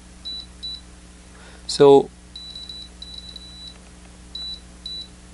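A MUSTOOL MT13S multimeter on continuity test gives a series of short, thin, high beeps, some in quick pairs and triplets, spread across the clip, with a brief spoken word partway through.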